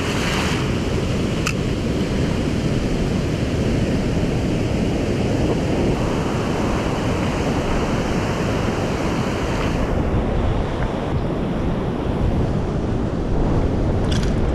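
Ocean waves break steadily on a beach during striped bass surf fishing, a loud continuous roar of surf mixed with gusting wind noise on the microphone.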